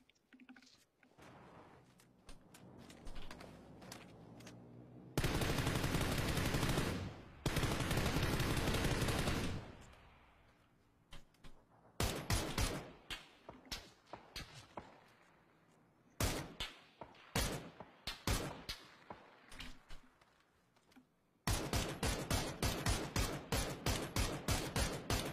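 Gunfire from a gun in a shooter video game: rapid automatic bursts and single cracks, loud and close, coming in clustered volleys separated by short lulls, with a long sustained burst early on and a steady rattle at the end.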